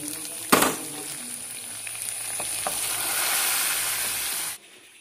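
Okra frying in a pan and being stirred, a loud hissing sizzle that swells after a sharp clatter of the utensil, with a few stirring knocks, then cuts off abruptly near the end.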